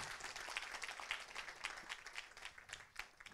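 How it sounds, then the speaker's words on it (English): A seminar audience claps for the panel of speakers on stage, a faint, continuous patter of many hands heard from a distance in a large room. "Round of applause to the gentleman on the stage."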